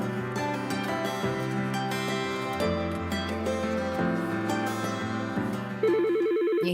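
An office telephone rings in a radio ad, a repeating electronic ring with a sustained tonal melody-like pattern, clear and up front, no talking.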